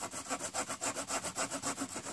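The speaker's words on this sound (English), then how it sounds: "I'm just going to freehand cut it and hope that I end up with fairly square." A Victorinox Fieldmaster Swiss Army knife's small saw blade cuts through wood in quick, even back-and-forth strokes, about a dozen rasping pulls in a steady rhythm, close and clear with no talking.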